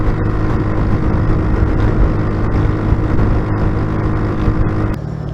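A motorcycle fitted with an aftermarket exhaust roars steadily and loudly while riding through a neighborhood near an overpass, a constant dense engine drone with a brief dip near the end.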